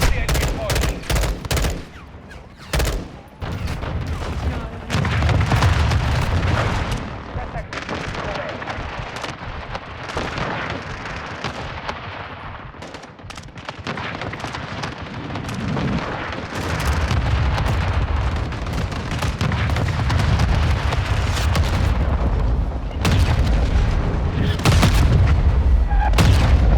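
Dense gunfire and heavy artillery strikes roar through a Call of Duty Black Ops battle, loud sustained volleys of shots, rolling booms and crackling explosions with barely a pause.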